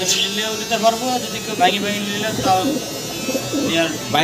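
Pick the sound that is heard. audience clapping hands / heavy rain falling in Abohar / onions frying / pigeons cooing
pigeons cooing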